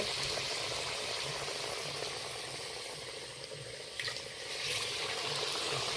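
Pumpkin-leaf pakoras stuffed with banana flower, dropped into hot oil, give a steady, dense sizzle and bubbling that dips briefly midway, then swells back up, with no voices.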